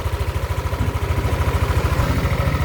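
A Yamaha NMAX 155 scooter engine idles steadily after a crankshaft position sensor replacement, its low, even pulsing chug running alone at close range without any speech.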